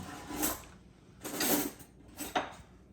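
A spoon stirs a hot paneer butter masala mixture of paneer, butter, green peas, tomatoes, onions, cashews and spices in a pan, three distinct bursts of scraping and clinking against the metal, close and fairly loud.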